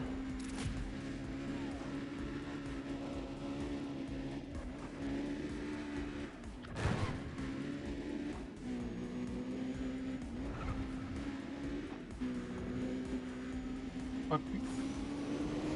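A car in Need for Speed Undercover drives at speed with a constant loud engine drone, tire skids and a sharp braking squeal midway, while someone talks over it.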